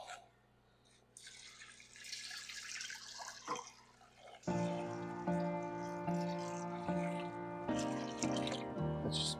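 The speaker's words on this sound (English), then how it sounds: "And then we're going to cover them with water." Water runs and splashes into a cooking pot over the lentils, rice and olive oil for mujadara, starting softly and then becoming a steady, louder pour with no talk.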